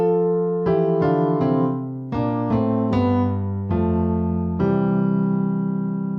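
Solo piano plays the instrumental section of a classic 70s song: chords struck in a steady rhythm, each ringing under a melody line, close and fairly loud, with no voices.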